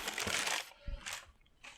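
Crinkly packing paper crumpled out of a box: papery rustling that comes in bursts, loud and close, with a couple of short pauses and a soft thump in between.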